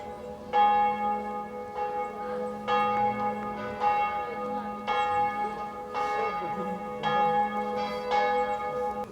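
Church bells in the town of Pszczyna ring out in repeated, evenly spaced strikes with long sustained metallic tones overlapping, loud and steady across the whole stretch, with no talking over them.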